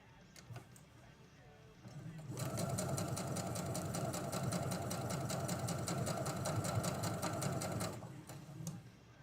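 A sewing machine runs a continuous row of fast, even stitching for about six seconds, close and steady, starting and stopping cleanly with quiet room noise around it.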